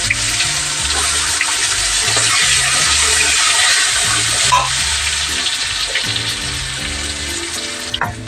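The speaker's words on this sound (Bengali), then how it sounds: "কড়াতে আমি সর্ষের তেল দিয়ে দিয়েছি। এবার ফোড়ন দিচ্ছি আমি এলাচ, দারচিনি, লবঙ্গ, কুচনো পেঁয়াজ দিয়ে দেবো।" Cardamom, cinnamon, cloves and chopped onion crackle and hiss steadily in hot mustard oil in a wok, a loud continuous sizzle with music playing underneath.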